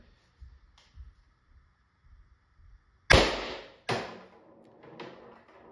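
A Pistelle X68 12-gram CO2 paintball marker fires in a long-duration puncture test, giving two sharp, loud pops close together with a brief hissing tail, after quiet low background rumble.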